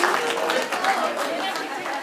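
A crowd applauds at a Rwandan celebration, a dense, continuous wash of clapping heard close with a voice speaking over it.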